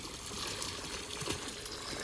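Water flowing into a village pond used for swimming, a steady broadband rush and trickle that stays even and close throughout with no talk over it.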